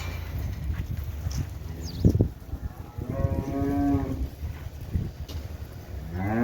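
Cattle lowing at a cow market, several long moos rising over a steady crowd-and-yard din, one fairly close and loud, others farther off amid market bustle.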